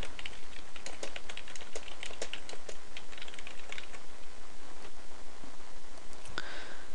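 Rapid clicking of computer keyboard keys, close and crisp in an irregular typing rhythm, with no voice over it.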